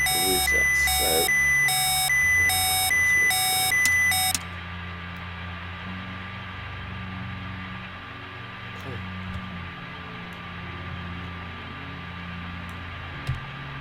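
Lunar module master alarm in a spaceflight simulator, a loud repeating electronic beeping tone pulsing rapidly for about four seconds, then cutting off abruptly to leave a steady low cabin hum with faint clicks.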